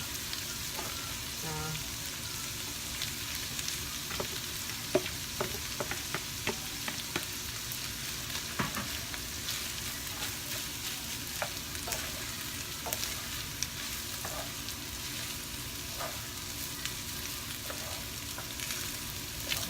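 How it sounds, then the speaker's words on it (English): Rice reheating in a pan of House Special Chinese fried rice gives a steady, moderate sizzle with scattered light scrapes and clicks from stirring, continuous throughout with no talking. "I'm going to heat up the rice also"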